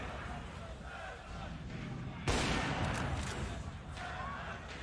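Gunfire in Counter-Strike during an Astralis versus NiP esports final at IEM Katowice 2019, a sudden loud broadband shot burst with continued firing, under steady caster talk and crowd noise.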